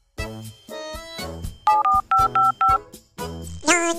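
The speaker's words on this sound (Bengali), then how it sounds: "দেখি একটু কাটুর কাছে ফোন দিয়ে।" A phone number being dialed: a run of short, evenly spaced keypad tones sounds close and clear, with brief room noise before and after.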